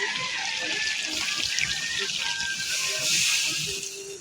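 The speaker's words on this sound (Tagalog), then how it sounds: "Ilalagay natin yung Sprite." Sprite soda pours and fizzes into a cooking pot with a steady, close hiss that lasts throughout and swells slightly near the end.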